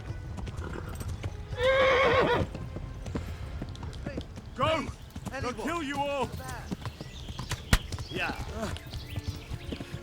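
A horse gallops in the Kingdom Come Deliverance video game, rapid hoofbeats drumming steadily under a shouting voice, with a loud whinny near the start and more neighing along the way.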